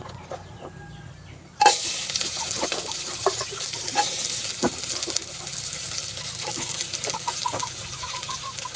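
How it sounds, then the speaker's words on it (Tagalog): Onion and garlic drop into a little hot oil and burst into loud, steady sizzling that continues close by, with faint scrapes of stirring and a few sharp clicks, and no one talking. "tapos lagyan na natin yung ating sibuyas at bawang"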